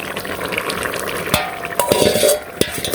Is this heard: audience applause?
no